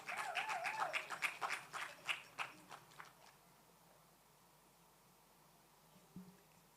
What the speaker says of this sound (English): Please give me a huge round of applause